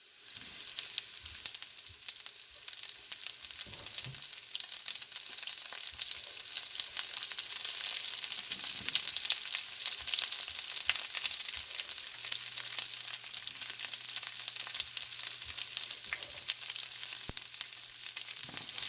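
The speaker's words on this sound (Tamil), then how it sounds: "வெங்காயத்தை நல்லா வதக்கி விடுவோம்" Onions frying with curry leaves in a pan, a steady soft sizzle with faint crackles and occasional stirring, no voices.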